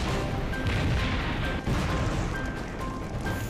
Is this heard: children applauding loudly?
no